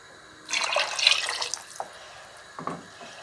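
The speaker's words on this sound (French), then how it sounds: "je vais remettre un petit peu d'eau quand même." Water poured into a pot of minestrone with root vegetables and chickpeas, a short splashing gush lasting about a second, followed by a few faint drips and a brief clink nearby.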